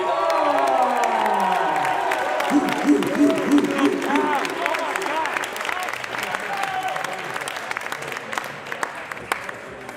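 A crowd at a North American Cup Series finals podium ceremony applauding and cheering with a few whoops, loud at first and then gradually thinning out into scattered claps and voices.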